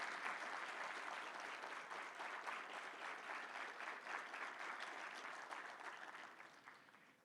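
An audience at a law conference claps steadily, a dense wash of applause that holds for several seconds before slowly tapering off, heard from a distance.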